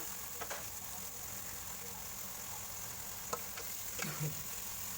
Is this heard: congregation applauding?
no